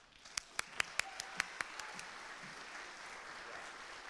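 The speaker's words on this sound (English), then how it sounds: "How about another round of applause?" Audience applause at a school beginning band concert, a few loud distinct claps up front over softer scattered clapping from the crowd, fairly quiet overall.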